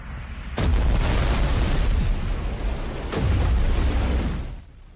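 Nuclear reactor exploding out at sea near Kalpakkam in a film, two heavy booming blasts a few seconds apart, each a sudden wide roar that sustains and then fades, with no voices.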